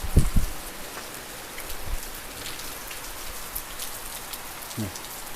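Steady rain falls on an outdoor surface near rice paddies on a cool day, a continuous hiss of drops with a few louder close splashes and brief low knocks, no one talking.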